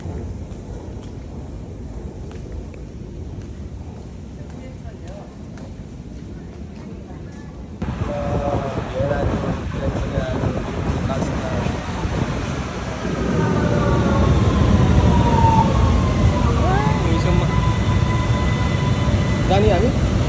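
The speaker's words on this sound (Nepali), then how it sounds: "भियनाको ट्रेन स्टेसनमा आइयो हामी यु टु कार्ल्स प्लाज" A metro train at the U2 Karlsplatz underground station in Vienna rumbles loudly and continuously, swelling as it arrives, with people talking over the rail noise.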